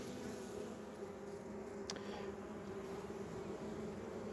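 Honeybees at a swarm hive give a quiet, continuous buzzing hum with a steady drone and no talking, plus one brief click partway through.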